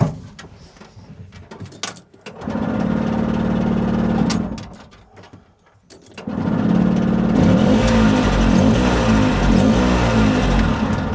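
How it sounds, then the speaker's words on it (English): An Italian micro van's engine, a barn find parked for twenty years, cranks over with a fast rhythmic churning from the starter, pausing briefly before a second longer, louder spell of cranking, close and without talk. "Spinning over, all right, it should start."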